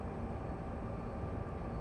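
A locomotive works hard up a bank in a train simulator. It makes a steady, dense, low mechanical rumble and drone, moderately faint and continuous, with no voices.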